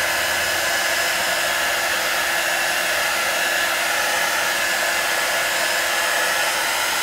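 A hair dryer blows steadily on Mod Podge and glitter craft backgrounds, a continuous close airy whoosh with a fixed motor whine that holds unchanged throughout, with no voices.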